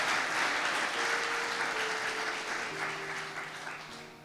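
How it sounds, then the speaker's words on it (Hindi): A church congregation applauds loudly for God in a steady, dense wash of clapping that stays fairly even and eases slightly over a few seconds, with a faint tone running underneath. "जोरदार तालियां खुदा के लिए।"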